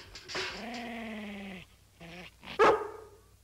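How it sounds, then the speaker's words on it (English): Cartoon dog growling and barking: a drawn-out growling bark followed by a shorter growl and a sharp loud bark, close and clear with no talking. "Show them how you growled at us, Lassie."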